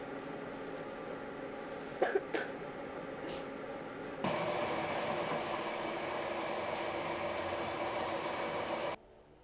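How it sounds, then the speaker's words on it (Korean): Passenger train travelling from Innsbruck to Salzburg in Austria: steady rolling rumble and hiss from inside the carriage, with a couple of short knocks early and a louder surge of rushing noise that continues until an abrupt cut. "나는 인스부르크 역에서 기차를 타고 다시 잘츠부르크로 향했다"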